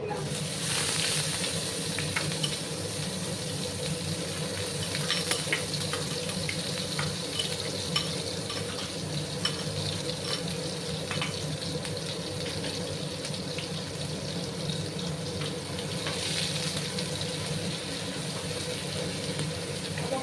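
Onion and garlic paste frying in a pan for a Bengali small fish dish, giving a steady, close hiss and sizzle that carries on evenly throughout with no pauses.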